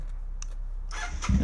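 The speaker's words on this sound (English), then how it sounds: "And I cranked the bike on" Motorcycle fitted with Cobra pipes being cranked: a low idle rumble, a starter whir, then the engine catches with a louder, deeper burst at the end.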